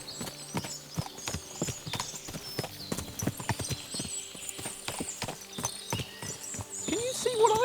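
Several horses clip-clop in a steady, overlapping rhythm of hoofbeats in the video game Kingdom Come: Deliverance II, at moderate loudness with a whinny near the end and voices talking over the steps.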